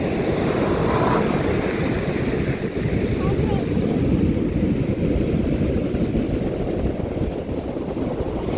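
Heavy sea surf at high tide rumbles and roars continuously on the shore, mixed with strong wind buffeting the microphone, loud and close with no pauses.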